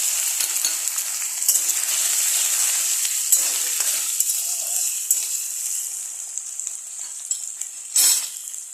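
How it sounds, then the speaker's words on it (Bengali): Diced potatoes fry in hot oil with cumin seeds, bay leaf and dried chilli, a steady close sizzle with a few stirring scrapes and a brief louder burst near the end, no voices. "আলুটা কিছুক্ষণ ফ্রাই হয়েছে"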